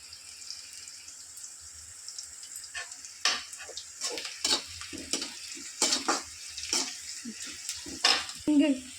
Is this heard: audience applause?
no